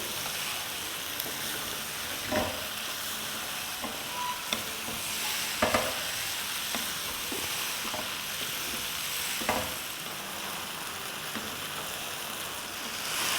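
Okra sizzles steadily in a pan with lemon juice added, while a spatula scrapes and stirs it in scattered clicks and knocks. The sound is close and moderately loud, with no talking.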